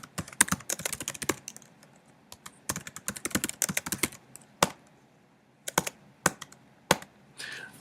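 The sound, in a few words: typing on a computer keyboard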